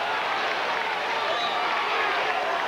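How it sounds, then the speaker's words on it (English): A steady, distant roar from the crowd at the 1991 IHSA Class 5A boys high school football championship game, a continuous wash of cheering noise with no clear breaks. "And this crowd is loving it."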